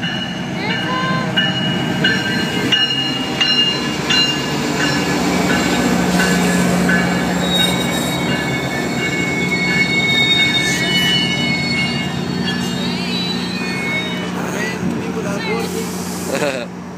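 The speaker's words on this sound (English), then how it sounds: "As you see in the background, the train is coming." A train pulls into a public transit station with loud, sustained metallic wheel squealing over a steady rumble, while people talk faintly in the background.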